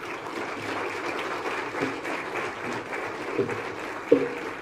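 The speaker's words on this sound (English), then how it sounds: "I think she deserves a bigger applause." Audience applause after a student's speech on women's role against corruption at an International Anti-Corruption Day event: a steady, fairly soft wash of many hands clapping for several seconds, with one sharper clap near the end.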